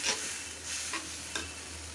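Ginger garlic paste frying in oil in a pan, a continuous close sizzle with a few soft stirring scrapes and a low steady hum underneath, no voices.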